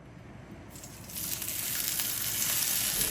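Balsamic-marinated ribeye steaks sear in a hot pan, a steady hiss of sizzling that swells louder about a second in and keeps going, close and continuous with no talking.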